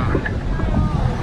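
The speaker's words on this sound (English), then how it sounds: "And it's windy." Gusty wind buffeting the microphone outdoors during a Día de los Muertos parade in Guanajuato, Mexico, a steady loud low roar filling a brief moment with faint voices underneath.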